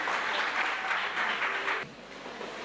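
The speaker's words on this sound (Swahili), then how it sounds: "mjipigie makofi mengi sana" An audience at a sports-related public event applauds with loud, dense clapping that continues for a couple of seconds before dropping off, with no talk.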